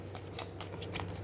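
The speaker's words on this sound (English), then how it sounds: "Here are the relic cards. I'm going to start shuffling those." Relic cards for the Aeons End War Eternal board game being shuffled by hand, a quiet run of soft riffling bursts and papery flicks over a low steady hum, with no voices.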